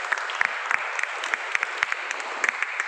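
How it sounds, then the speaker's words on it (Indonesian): A room of people clapping steadily for a student group, dense even applause with sharp individual claps standing out throughout. "kita kasih aplaus untuk kelompok 3"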